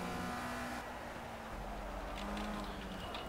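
A race car lapping a practice session in the video game Project CARS, a loud steady engine drone that shifts pitch partway through, continuous and close, with no voices.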